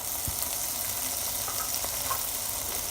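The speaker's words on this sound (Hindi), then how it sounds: "beans and frozen he carat है, इनको 1-2 मिनट हम फ्राई करेंगे" Frozen beans and carrots fry in a pan with black pepper, giving a steady, close hiss of sizzling. The sizzle holds through the whole stretch, with a few soft stirring clinks and no talk.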